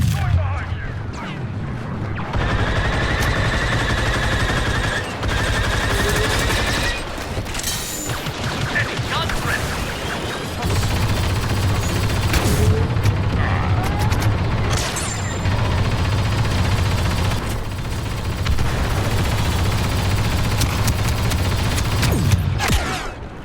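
Sustained turret gunfire in Star Wars Battlefront II on Geonosis, dense repeated blasts and booms filling the whole stretch, loud and close, with mechanical battle noise and a voice talking over it.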